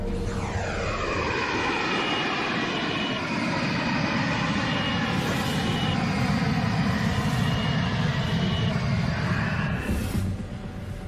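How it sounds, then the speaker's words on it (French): A sonification of the early universe, its first 400,000 years condensed into about ten seconds: a loud, unbroken roar with long sweeping tones and a deep rumble that holds steady throughout. "Un cri primal obsédant."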